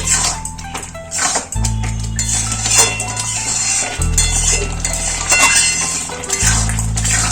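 Ripe papaya halwa being stirred in a pan, with intermittent metallic clinks and scrapes of the spoon over a steady low cooking hum, fairly close and moderately loud.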